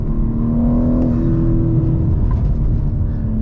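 A 2022 BMW M4 Competition engine runs loud and steady at a fast idle, a constant low drone with a slight rise in pitch near the start.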